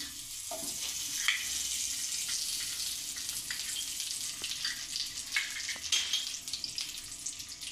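Ghee sizzles and crackles in a hot kadai, a steady hiss with small pops throughout, close up and fairly quiet.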